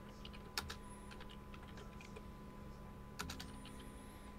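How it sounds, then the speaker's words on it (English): Typing on a computer keyboard during a tabletop Dungeons and Dragons session, with a soft, steady patter of key clicks, two sharper taps standing out, and no talk over it. "I'm just typing Steel's response to all this."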